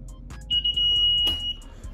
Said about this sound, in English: Let me turn this alarm thing off